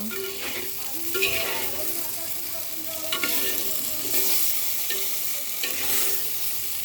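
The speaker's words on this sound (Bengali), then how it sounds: "এই আমি দিয়ে দিচ্ছি ভেজে রাখা সয়াবিনটাকে মিক্স করে দেব" Fried soybean chunks being mixed into hot oil with vegetarian seasoning, a steady bright sizzle with scraping stirring strokes recurring every second or so, close and alone without voices.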